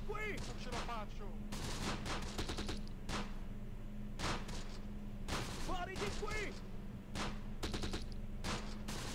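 Rapid gunfire from the Close Combat video game, with WWII-era infantry and Italian commandos, crackles in bursts and single shots at a moderate distance, while people speak over it.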